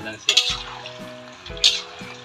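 Peanuts being stirred in a pan for adobong mani, a spoon scraping and clinking against the metal in two distinct strokes over a steady background frying sizzle, with a faint tone lingering underneath.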